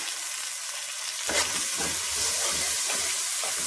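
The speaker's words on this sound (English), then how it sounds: "Let them saute a little bit" Green peas, harder than regular US peas, are sautéed in a pot for a Haitian stewed hen and rice dish; after a faint hiss, a loud, steady sizzle kicks in as they hit the heat and keeps crackling.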